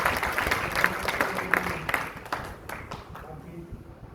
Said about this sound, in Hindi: तालियों से एक बार स्वागत।